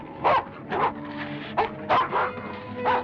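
A dog barks and yips in a lively series of about six short, close barks spaced roughly half a second apart, with no one talking over them.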